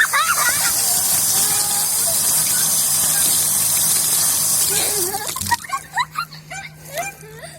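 Water sprays hard at a camper-van service area while laundry is rinsed, a loud continuous gushing hiss that cuts off after about five seconds, followed by voices talking.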